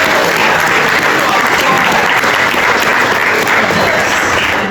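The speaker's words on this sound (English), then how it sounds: "Can we just give them a round of applause?" Sustained applause from an audience at a chamber of commerce leadership graduation, dense and steady throughout at full loudness, a crowd clapping together without a break.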